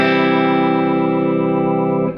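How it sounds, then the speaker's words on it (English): An electric guitar chord on the bridge humbucker pickup rings steadily and bright with mild distortion, sustaining loudly for about two seconds before cutting off. "And that's the bridge pickup."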